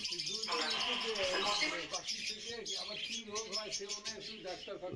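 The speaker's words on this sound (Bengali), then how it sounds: "এখানে তোমরা দেখতে পাচ্ছ লাভবার্ড, আবার লাভবার্ড দেখতে পাচ্ছ, যা খুবই চঞ্চল, ওরা খুবই ছটফট করছে।" Restless lovebirds in a bird collection at Katwa, Purba Bardhaman, keep up busy, overlapping high chirps and tweets at close range throughout.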